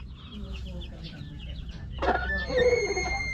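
Dekalb Brown hens and a rooster clucking in a new coop, soft close cackles and chatter building into louder, drawn-out clucks near the end, with a person talking softly underneath.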